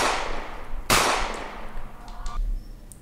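Gunshot effects in a Karachi rap track: two sharp, loud bangs about a second apart, each with a booming decaying tail, followed by quieter clicks and a low thud.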